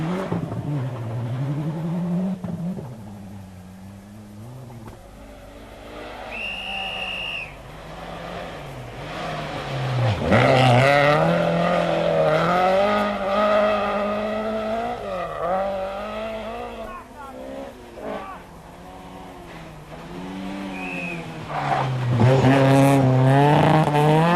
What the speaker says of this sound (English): After the front runners came the rear-wheel drive cars